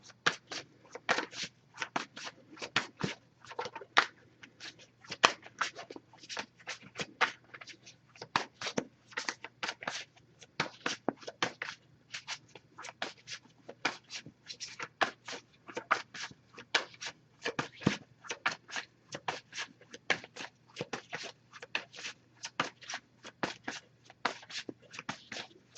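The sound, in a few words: shuffling tarot cards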